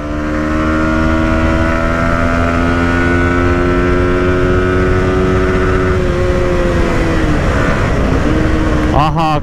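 A motorcycle ridden at speed on a road near Gaighat, its engine a steady loud drone with shifting tones, audible under continuous speech.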